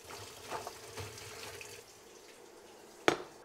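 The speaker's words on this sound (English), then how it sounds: "Okay, time to drain, but don't rinse the pasta. Just drain the water off." Pasta water drains from a pot into a sink, making a steady splashing rush that eases off. A sharp clank near the end sounds like the pot knocking against the sink.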